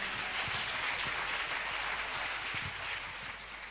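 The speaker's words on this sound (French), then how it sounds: "Acclamation." A church congregation applauds, a dense steady patter of clapping that fades slightly toward the end, moderately distant.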